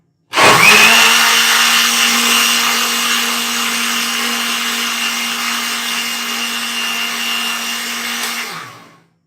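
A kitchen blender mixing fruit juice whirs at a loud, steady pitch, starting abruptly, holding an even motor drone for about eight seconds, then cutting off and winding down.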